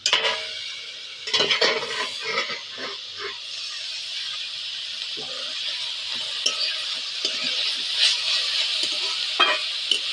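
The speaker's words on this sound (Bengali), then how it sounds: "কপিটা একটু ভালো করে নেড়ে চেড়ে ভেজে নেবো" Cauliflower stirred and fried in a pan after releasing its water, a steady hissing sizzle with repeated scraping and clattering stirring strokes, close and fairly loud.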